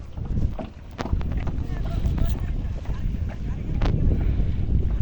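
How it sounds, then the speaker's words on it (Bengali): A boat moving along a river by a road, heard outdoors as a constant low rumble under heavy wind buffeting on the microphone. A few faint knocks and the sound of people nearby come through. "নদী দিয়ে নৌকা যাচ্ছে।"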